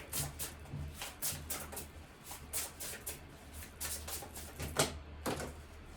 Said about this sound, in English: It takes me a little bit to shuffle.